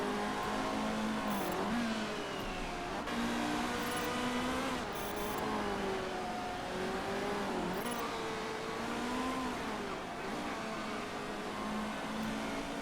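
Race car engines on track in the Motorsport Manager video game, several engines whining and revving up and down in pitch, steady and fairly loud throughout, with cars passing and a brief tire squeal.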